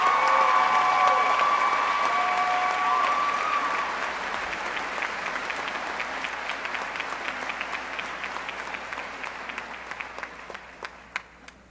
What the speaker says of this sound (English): Please give Khalid another round of applause.